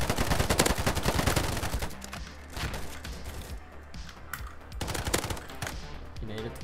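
Rapid bursts of G36C rifle fire in the shooter game Polygon, loud and close, with dense automatic volleys at first and then shorter scattered bursts, while someone talks over it.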